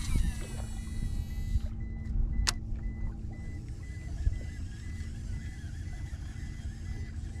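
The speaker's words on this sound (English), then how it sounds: "it's a high-pitched, low audible whine. That's the DC braking system." A Shimano SLX DC baitcasting reel's braking system gives a thin, high-pitched whine during a cast, faint and brief over a steady low outdoor rumble, followed by a short sharp click.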